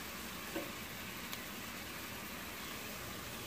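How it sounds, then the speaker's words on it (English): Minced garlic and shrimp fry in a pan with a steady, close sizzle that crackles evenly throughout, with no voices. "1 tablespoon of minced garlic to your shrimp right now. Yep. And you want to let this fry for a little while."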